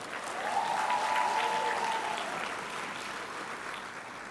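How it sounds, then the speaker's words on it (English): Audience at a reproductive health conference closing plenary breaks into applause, a dense steady wash of clapping from a large crowd, with a faint tonal hum or feedback ringing through the middle. "Please give everybody a clap."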